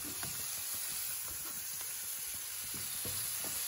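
Tomatoes go into a sizzling pan, a quiet, continuous frying hiss broken by soft clicks and scrapes of stirring, with no one speaking.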